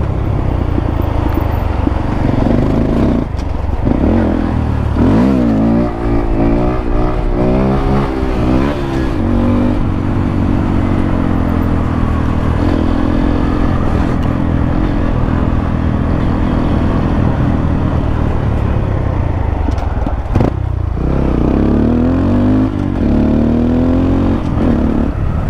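A Honda Grom motorcycle revs loudly and close, its engine note climbing and falling through repeated throttle blips and gear changes as it rides, staying loud throughout.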